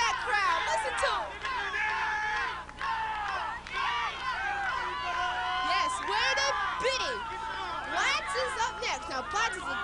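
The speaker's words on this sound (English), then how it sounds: "Listen to that crowd." Spectators at a softball game at the Arkville Fair, a lively crowd of overlapping chatter and occasional cheers that keeps up throughout, with individual voices standing out close by.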